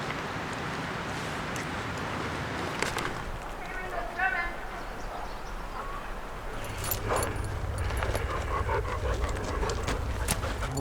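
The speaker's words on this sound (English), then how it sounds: "Dogs are playing." Dogs pant and scuffle nearby while playing on a backpacking hike in Colorado's Indian Peaks Wilderness, heard over steady outdoor wind or water noise with faint voices.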